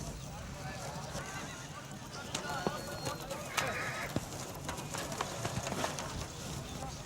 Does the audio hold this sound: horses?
yes